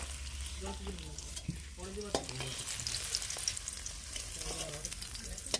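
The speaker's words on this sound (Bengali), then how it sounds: "পনিরটা হালকা করে ভাজা হয়ে গেছে এবার তুলে নেব" Paneer pieces fry lightly in oil in a kadai, producing a continuous sizzle with intermittent stirring and scraping sounds, close and moderately loud.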